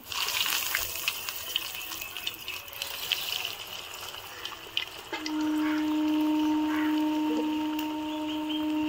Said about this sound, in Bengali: তেল গরম হয়ে গিয়েছে, দুটো দুটো করে চপ দিয়ে ভেজে নেব।